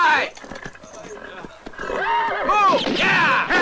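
Horses whinny and neighing calls rise over shouting men as riders spur off in a 1970 spaghetti western scene, with hoofbeats and loud commotion throughout.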